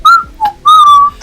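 A person whistles a short melodic tune in clear close tones: a sustained note, a brief lower blip, then a long held note, imitating steam whistling.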